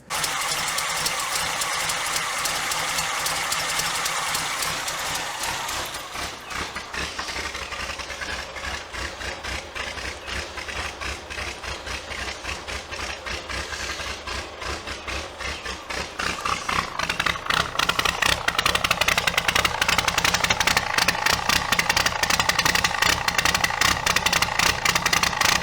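A 1977 MG Midget with a 1,500cc engine and four-speed transmission runs steadily at idle in a close, continuous drone, with the engine note growing noticeably louder and rougher partway through and holding there to the end.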